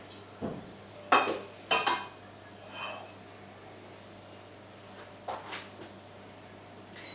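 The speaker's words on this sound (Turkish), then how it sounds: "Şimdi kaselerimi alacağım." Ceramic bowls clink and knock together as they are taken out and set down in a home kitchen while chocolate pudding is made, a few sharp clatters at the start and a softer one later, with quiet gaps between.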